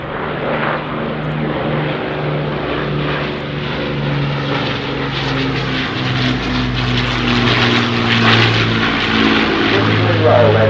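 Avro Lancaster B1 PA474 flying a victory roll at an air show, its four piston engines droning loud and steady with a swelling, pulsing propeller roar that builds toward the end, with a commentator talking over it.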